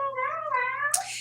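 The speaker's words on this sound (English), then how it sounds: "My kitty says meow." A pet cat gives a drawn-out, rising meow, close and clear, over a steady low hum.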